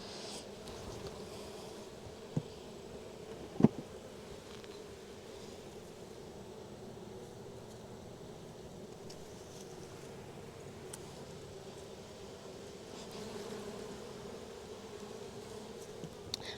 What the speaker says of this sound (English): I think I'm getting a lot better at shaking the bees